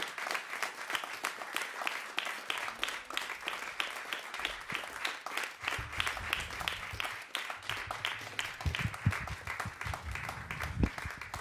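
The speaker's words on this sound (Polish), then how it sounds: "Duże brawa dla tego kwintetu." A concert audience applauds a jazz quintet. The crowd claps in a full, sustained roar of many hands, with low stage thumps and rustling under the clapping toward the end.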